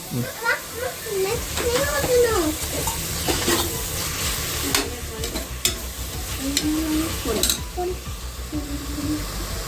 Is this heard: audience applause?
no